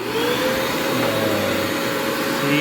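A shop vacuum runs steadily for dust collection on a miter saw, a continuous loud whine and rumble lasting throughout with no breaks.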